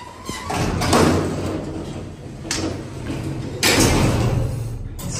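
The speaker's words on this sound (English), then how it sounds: "These doors come down so fast." Doors of a modernized Otis hydraulic freight elevator slide shut with loud rumbling scrapes and thuds, several heavy surges of metal movement close by, ending in a solid clunk.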